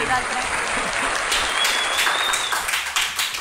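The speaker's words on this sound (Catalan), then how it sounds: "avui tenim públic, avui l'aplaudiment el segueixen" An audience claps at a live interview broadcast from a climbing gym in a community centre, with the applause swelling and thinning amid a few shouts and voices.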